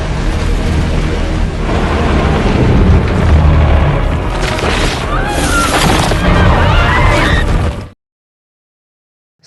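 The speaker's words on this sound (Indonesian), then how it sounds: "pasukan Miles terus-terusan menembakkan rudal ke arah pohon raksasa hingga akhirnya pohon yang mereka jaga selama ini itu pun roboh" Film battle scene of missiles striking a giant tree until it falls, heavy booming blasts and crashing rumble rolling continuously, then cutting abruptly to silence; a narrator talks over it.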